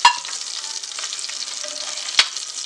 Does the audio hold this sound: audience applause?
no